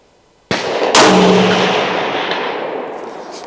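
A single loud, close rifle shot from a Ruger American Ranch in .300 Blackout cracks sharply, followed by a long fading echo rolling across an outdoor range.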